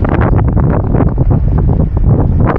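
Heavy wind buffets the camera microphone outdoors at the Chiang Kai-shek Memorial in Taiwan, producing loud, continuous low rumbling and gusty blasts that fill the whole stretch.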